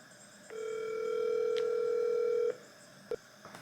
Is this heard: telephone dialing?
yes